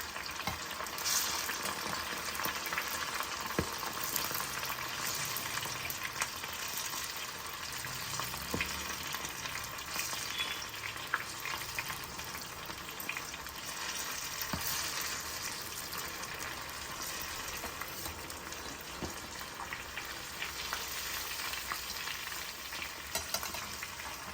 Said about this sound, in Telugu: క్రిస్పీ కార్న్ చేసేటప్పుడు కార్ను ఇలా చిల్లి పడుతూ ఉంటాయి